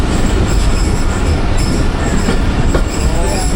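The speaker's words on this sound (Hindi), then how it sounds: "हज़ारा एक्सप्रेस" The Hazara Express passenger train at a station produces a loud, continuous rumble with wheel squeal and metallic rail noise, heard up close and filling the whole moment.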